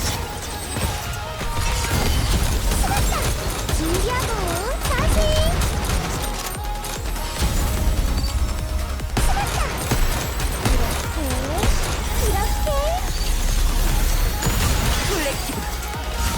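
Volley gunfire from the mobile game Nikke rattles in dense, continuous bursts under layered game music and effects, loud and busy throughout, with voices speaking over it.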